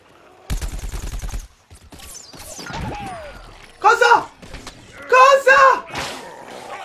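Bursts of rapid gunfire in Plants vs. Zombies: Garden Warfare, a fast rattling volley followed by heavier crackling blasts, mixed with game effects and a voice speaking Italian.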